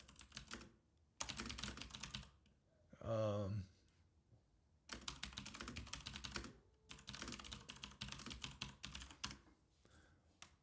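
Bursts of rapid computer keyboard typing with short pauses between them, close and steady, plus a brief louder rustling noise partway through.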